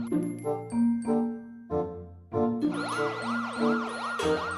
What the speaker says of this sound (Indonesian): Suara mobil polisi tuh.